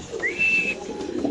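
A male Roman pigeon gives a short, close coo with a rising whistle-like tone that settles into a softer low murmur.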